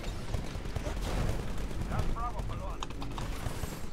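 Gunfire crackles in a Titanfall Hardpoint match as a rooftop sniper fires, with rapid, sharp shot bursts and mechanical clatter packed densely over loud game noise.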